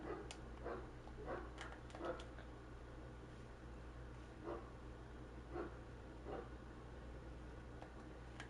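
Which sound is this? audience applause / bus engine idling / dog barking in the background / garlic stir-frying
dog barking in the background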